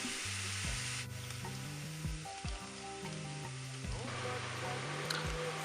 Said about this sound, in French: Ensuite, on ajoute le porc. On laisse cuire en mélangeant de temps en temps.